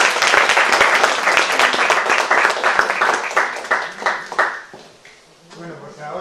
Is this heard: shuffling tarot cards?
no